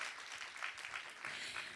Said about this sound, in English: Another round of applause for them, ladies and gentlemen